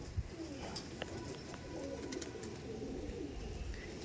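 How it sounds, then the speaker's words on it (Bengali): Andhra fulshira pigeons, a cock and hen on show, give soft, low coos against a constant hiss of background noise, faint and fairly distant. "এটা নর দেখাচ্ছি, এটা দেখাচ্ছি মাদি পায়রা"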